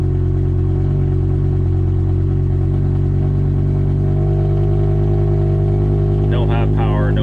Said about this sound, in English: Yeah, rough idle, and that's how longer it does it for.